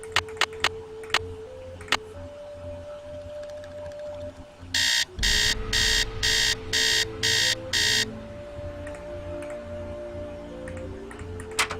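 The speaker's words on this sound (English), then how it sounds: "Let's set an alarm for the morning." An electronic alarm clock in the Nancy Drew game Secret of the Scarlet Hand beeps in six loud, evenly spaced bursts over quiet ambient game music and soft chimes.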